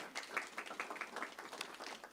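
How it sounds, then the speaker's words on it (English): A small crowd at a school board meeting claps for the high school wrestling team, a brief, fairly faint patter of applause that is heard alone. "claps for them"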